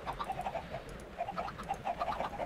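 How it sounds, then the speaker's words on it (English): Chickens in the Minecraft video game make repeated soft clucking and cooing calls in a steady, busy patter, fairly loud and close throughout, with no talking over them. "Oh man, those chickens are loud."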